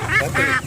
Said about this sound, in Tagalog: O yung gansa.